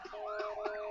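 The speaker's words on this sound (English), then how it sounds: "I'm pretty sure police sirens are not copyrighted" A police car siren wails steadily with a rising and falling tone, loud and close throughout the short burst, with no voices over it.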